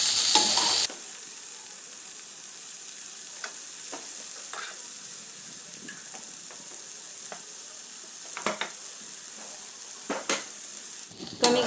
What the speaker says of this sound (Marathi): आता याला हलवून घेऊ। कमी गॅस फ्लेमवर 2-3 मिनिट त्याला परतून घेऊया।